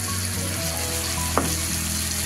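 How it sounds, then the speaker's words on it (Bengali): Fish curry of bhola fish sizzling and frying in a pan with mustard and poppy seed paste being added, a steady close hiss with a brief scrape of stirring. "এবারে দিয়ে দেবো সর্ষে আর পোস্ত বাটা।"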